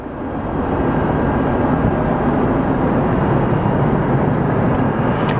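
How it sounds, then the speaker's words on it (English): A passenger jet climbing out after takeoff from Phoenix Sky Harbor Airport, a loud, steady broadband engine roar that swells up within the first half second and then holds constant without letting up. "Pretty wild how quickly these planes climb versus the little Cessnas we train on."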